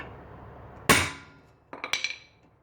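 A single hard hammer strike on a manual impact driver, loud and sharp, followed by a few lighter metallic clatters as the tool settles.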